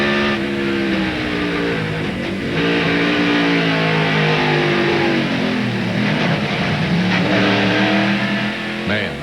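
NASCAR Craftsman trucks race at Watkins Glen in 1998, their engines screaming and shifting pitch continuously at full throttle as they bang into each other, loud and sustained with no audible talk.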